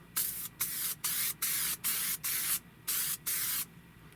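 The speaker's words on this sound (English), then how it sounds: "I'm going to try this particular spray adhesive" Spray adhesive from an aerosol can sprayed onto foam during a Compaq Portable restoration, heard as eight short, loud, hissing bursts in a steady rhythm, each about a third of a second long, with brief quiet gaps between them.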